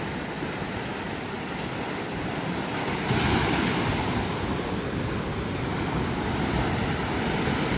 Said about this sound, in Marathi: लाटा आता मोठे मोठे येऊक लागले